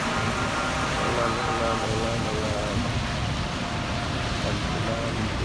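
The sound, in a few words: heavy rain falling in Salmiya, Kuwait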